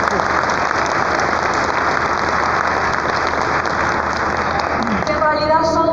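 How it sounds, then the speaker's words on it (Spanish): A large crowd claps at the opening of an industrial expo in a municipal park, a loud, dense, sustained wash of applause with voices mixed in that continues throughout. "Así que eso le vamos a dar un aplauso,"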